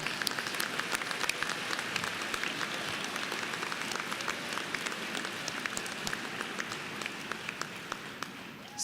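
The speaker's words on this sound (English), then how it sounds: "We can clap." Sustained applause fills a pharmacy commencement ceremony at Ohio Northern University for the class of 2023, dense steady clapping from a large audience that runs evenly throughout without pause.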